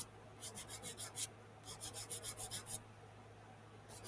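A buffer rubs an artificial nail in two quick bursts of rapid back-and-forth strokes, soft close-up rasping in a rhythmic series with short pauses between.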